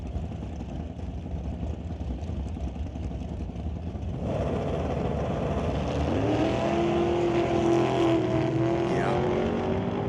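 A rear-engine dragster in a Super Pro drag race: distant engine roar and crowd-track noise, then a louder rising engine tone that climbs in pitch as the car accelerates, heard from a distance.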